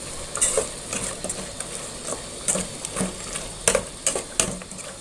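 Frog stir-fries in a pan with sizzling oil, broken by repeated bursts of a utensil scraping and stirring across the metal, close and fairly loud.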